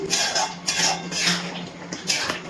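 Utensil scraping and clinking against a pan while chicken curry is stirred after the lid comes off, a steady series of close, moderately loud metallic scrapes over about two and a half seconds with no talk.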